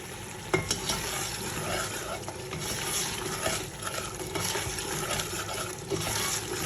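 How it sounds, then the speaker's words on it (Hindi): Garlic, ginger and tomato paste masala frying and being stirred in a pot for chicken biryani, with steady sizzling and scraping stir strokes throughout, fairly close and moderately loud, no talking. "लहसुन अदरक को टमाटर पेस्ट को अच्छे तरीके से भून के"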